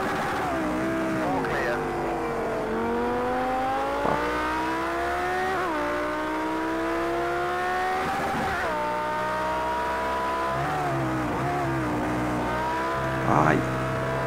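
A Lamborghini Huracan in the Project Cars 2 racing game at Brands Hatch revs hard through its gears, with rising engine whines, shift drops and brief tire squeal, loud and continuous.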